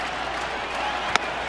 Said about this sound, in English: Huge reaction by the crowd